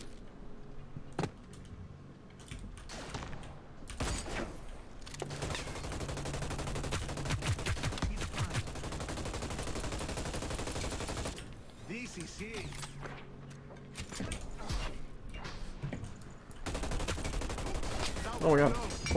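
Gunfire in the video game Hyper Scape: sustained rapid automatic shots and mechanical clatter run through most of the stretch, with a few sharper single shots, under and between talk by a player.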